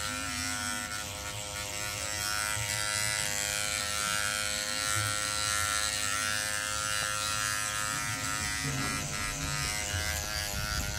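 Electric hair clipper buzzing steadily and close while cutting a boy's hair at a barbershop, a continuous tonal hum with slight changes as it moves through the hair.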